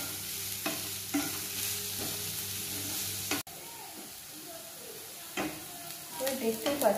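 Chopped cabbage and other vegetables lightly frying in a pan for a Spanish omelette, soft sizzling broken by scraping and stirring strokes, then quieter bubbling with more stirring clatter toward the end.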